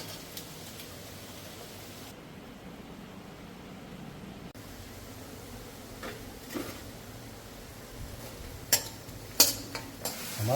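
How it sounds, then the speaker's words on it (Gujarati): Vegetable curry being stirred and roasted in an iron pan, a steady low sizzle with soft scraping and occasional sharp clinks of a utensil against the metal, growing busier toward the end. "આ થાય ધીમું પણ બહુ મસ્ત શેકાય"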